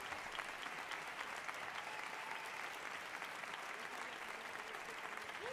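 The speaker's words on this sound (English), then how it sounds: "Clapping moment." An audience claps steadily at a drum festival in Seville, a dense, even wash of applause from a crowd that holds for several seconds at a fairly distant level.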